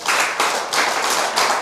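A church congregation claps in unison during a Sunday sermon, a run of sharp, loud collective hand claps in a quick rhythmic burst with no talking over them.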